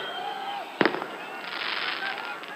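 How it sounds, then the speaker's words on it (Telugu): A sharp burst of firecrackers crackles at close range at a political rally, followed by a sustained, hissing spray of fireworks over background crowd noise and chatter. "ఆ టపాకాయలు ఆపాలి బాబు"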